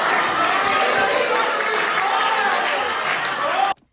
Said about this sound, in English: Getting applause breaks in poetry is crazy